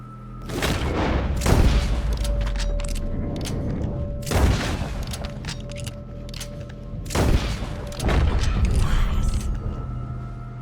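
Three heavy gunshots from a Red Dead Redemption 2 shootout boom out loud and close, spaced a few seconds apart, each trailing into a long rumbling echo, with faint creaks and a low hum underneath.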